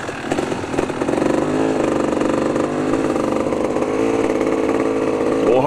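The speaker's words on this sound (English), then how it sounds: "Steve's got the 500 KTM." A KTM 500 dirt bike engine revs and labors on a rocky trail in Hawaii, loud and close with a steady buzzing drone that rises in pitch as the throttle opens.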